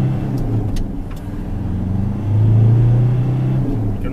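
A Ford Ranger diesel pickup, 2011 model, pulls hard at full throttle on the road, its engine rumbling steadily and swelling louder partway through as revs build, heard from inside the cab with no talking.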